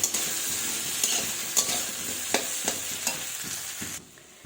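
A spatula stirs Rui fish curry with turmeric in a sizzling pan, scraping and clicking in irregular strokes over a constant close hiss that drops away abruptly near the end.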